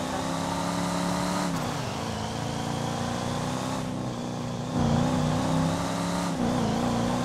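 A vehicle in a GTA roleplay game drives close by, its engine droning loudly and steadily with short dips and surges in pitch as it moves in and settles.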